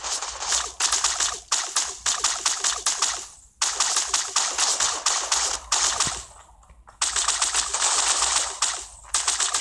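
Rapid gunfire in an online shooter, dense bursts of loud crackling shots that stop briefly and then start again, with no voices over them.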